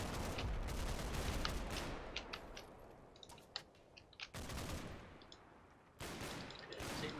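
Gunfire in the WWII Normandy video game Combat Mission: Battle for Normandy, with faint scattered rifle shots and machine-gun bursts popping at intervals, including sharper clusters midway and near the end.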